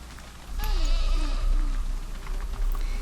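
Sheep bleat inside the zoo-building video game Planet Zoo, with several wavering, overlapping bleats up close over a low constant background hum.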